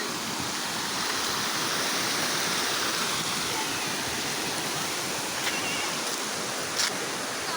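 Water rushes steadily over a river spillway overflow, a dense, continuous roar of broadband noise that stays loud and unbroken throughout, with no talk over it.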